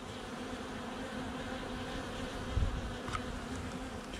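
Honeybees buzz continuously at hive frames in a soft, low drone, with one brief dull knock partway through.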